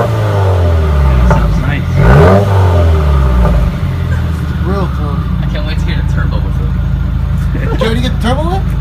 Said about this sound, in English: after you let it run for a little bit, you rev it.